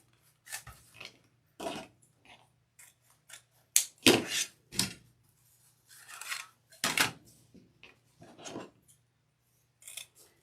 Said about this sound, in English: These scissors are quite sharp, very, very sharp, so you gotta be careful with them